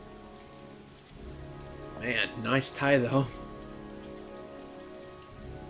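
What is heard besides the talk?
rain falling, from video game Heavy Rain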